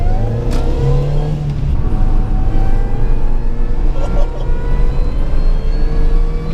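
A modified 220 BHP Mini Cooper S with a supercharger accelerates on a road, its engine drone carrying a rising, whistling supercharger whine that climbs in pitch through the gears, loud and close from inside the car.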